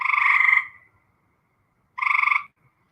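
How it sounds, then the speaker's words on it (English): Frogs give two rattling croak bursts about a second and a half apart, each a rapid pulsing trill lasting around half a second, alone against near silence. "I think the frogs are getting closer."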